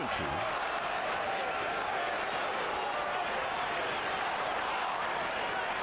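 An enthusiastic baseball crowd at a Rockies–Giants game in San Francisco cheers and murmurs in a broad, steady wash of noise, with a commentator talking over it.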